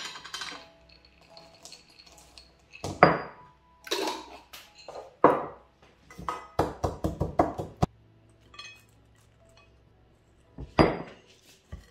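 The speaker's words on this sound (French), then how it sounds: "Là, je vais mélanger." Spoon stirring vegetables, fried onions and peanuts together in a bowl, giving irregular clinks and knocks against the dish, with a few louder clusters of taps and quiet gaps between, close up with no talking.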